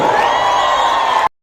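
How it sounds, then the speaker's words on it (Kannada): A crowd at the Kunigal festival cheers and whoops loudly for guests in a dense, continuous roar that cuts off abruptly after little more than a second. "ಸೊ ಬನ್ನಿ ಚಪ್ಪಾಳೆ ನಮ್ಮ ಲವ್ಲಿ ಸ್ಟಾರ್ ಫ್ಯಾಮ್ಗೆ"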